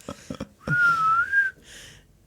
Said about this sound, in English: A little whistle in there.